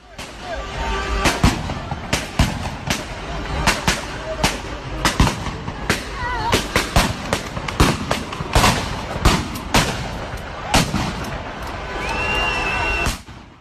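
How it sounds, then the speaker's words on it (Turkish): Celebratory gunfire shot into the air on an election-victory night in a public area, including long-barrelled weapons: many sharp cracks and bursts, some near and some distant, at irregular intervals over crowd noise and voices. "silahlı kişiler havaya mermi yağdırdı"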